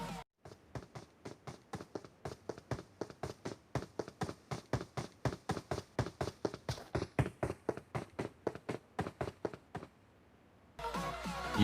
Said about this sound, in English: This is the footsteps of an enemy approaching toward you from your front, crossing you and then going back.